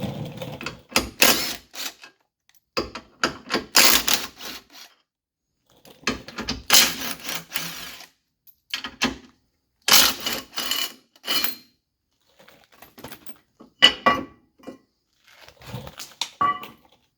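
Bolts of 18 mm being worked loose from a front suspension plate on a 2019-or-later BMW X7 G07, heard as bursts of ratcheting and metallic clicks separated by pauses, close and fairly loud, with no talking.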